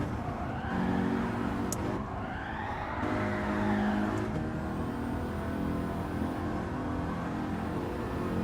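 A race car drifting in Gran Turismo 7 at Deep Forest, a steady engine drone with sweeping tire squeals rising and falling over about eight seconds, moderately loud and without speech.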